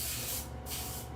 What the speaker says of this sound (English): man, you're spraying super fast